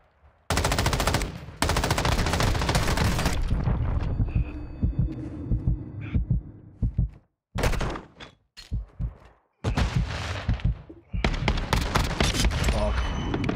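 Shotgun shells fire in a video game crossbow match, loud close blasts in dense clusters broken by short silences, then several separate shots in quick succession near the end.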